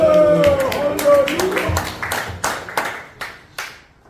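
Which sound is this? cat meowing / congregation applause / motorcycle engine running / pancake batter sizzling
congregation applause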